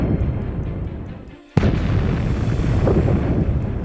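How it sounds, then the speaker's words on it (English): A spacecraft's shields pulverize a meteor: a sudden sharp blast cuts through a low rumbling drone, then a sustained, roaring, crackling wash follows and holds loud to the end. "If it meets a meteor, it uses a battery of shields to pulverize the object"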